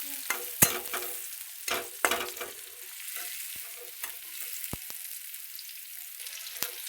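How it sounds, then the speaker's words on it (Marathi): Salted, pre-boiled goat mutton fries in oil in a pan, with a soft sizzle broken by several sharp scrapes and knocks of stirring, spaced irregularly and heard up close with no voices. "मस्त फ्राय होऊ द्यायचं बघा."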